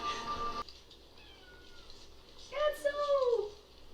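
Adso the cat meows in a long, wavering cry at close range in a quiet indoor scene from Outlander, coming after a short burst of other sound and a faint thin tone.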